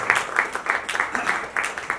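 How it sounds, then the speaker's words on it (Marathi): An audience applauds a lead couple at the launch ceremony of the Marathi TV serial 'Veen Doghantli Hi Tutena', giving dense, steady clapping with uneven surges, mixed with crowd noise and some voices. "जोरदार टाळ्या झाल्या पाहिजेत या आपल्या लाडक्या जोडीसाठी"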